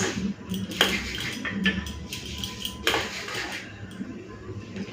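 A small amount of white oil is spread and mixed on a metal plate for luchi, giving scattered metallic clinks and soft scraping taps, fairly quiet, with irregular small knocks and no talk.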